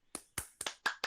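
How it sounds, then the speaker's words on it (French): A single person clapping about five times in an uneven rhythm during a casual quiz game, each clap close, crisp and fairly quiet, with no talk. "t'as gagné des applaudissements"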